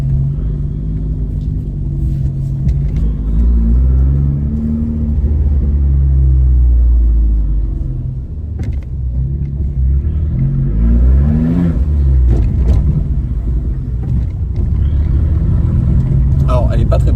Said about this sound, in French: le bruit de la ligne Monza, ça donne tout le temps envie de tirer dedans